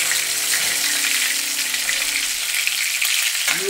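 Fish frying in hot oil, a steady loud hiss and crackle that carries on unbroken, close up, with no talking.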